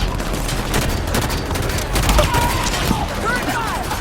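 Rapid, dense gunfire from Halo 5 gameplay fills the space in a continuous barrage, with weapon blasts and electronic sweeps layered over it and shouted voices mixed in.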